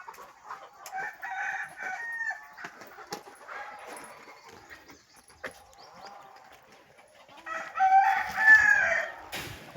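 Free-range village chickens cluck in scattered bursts with a rooster crowing, an outdoor farmyard scene, the loudest crow near the end; sounds are moderately close with quiet gaps between calls.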